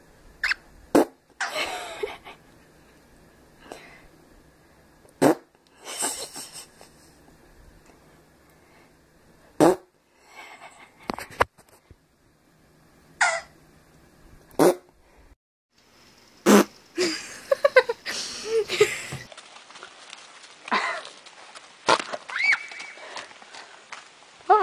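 Fart sounds turn up again and again as short, sharp bursts spread across a long stretch, some loud and close, broken by quiet gaps, with animal noises and brief background sounds among them.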